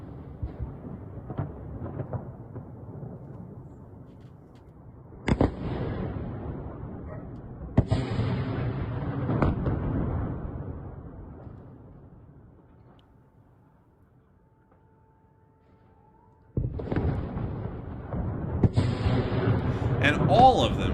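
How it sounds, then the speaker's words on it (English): HIMARS missiles striking targets, heavy booming explosions with sudden sharp onsets followed by long rumbling decay, a quieter lull, then another blast. "here's the video and the sounds of the missiles hitting their targets"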